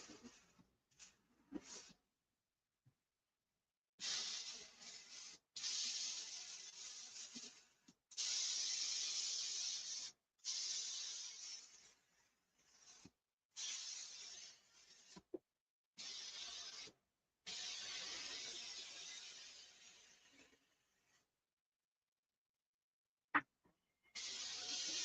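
Spray gun laying down a flow coat of paint outdoors in snowy weather: repeated steady hissing passes of varied length broken by short pauses and a few clicks of the trigger, fairly quiet and close, with no talking.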